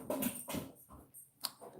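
A pet dog whimpers in short, soft bursts, several faint whines and snuffles spaced across a quiet indoor moment with no talking.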